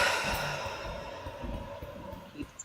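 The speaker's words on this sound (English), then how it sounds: "Close your eyes, deep breath." A deep breath during a guided tapping relaxation exercise: a slow, audible sigh-like inhale and exhale, soft and close, with no talking.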